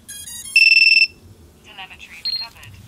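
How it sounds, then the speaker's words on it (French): A loud, steady electronic beep from a crashed FPV drone's beeper sounds for about half a second after a brief high chirp, followed by quieter warbling electronic tones, with a low rumble underneath. "c'est un beeper qui a pris le relais"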